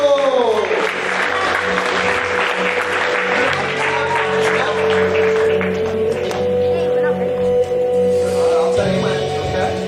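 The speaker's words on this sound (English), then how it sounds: "Big applause to get them all pumped up." An audience at a school young composers' night claps and cheers loudly for a student band, a dense, sustained wall of applause with a held musical tone running underneath.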